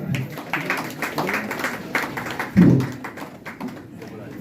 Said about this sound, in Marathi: सर्वांनी टाळ्या वाजवा कृपया.